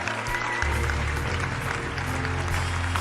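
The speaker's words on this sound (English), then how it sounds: "keep the applause going, ladies and gentlemen" Audience applause at a corporate event, sustained even clapping filling the hall, moderately loud with a low hum underneath and little talk.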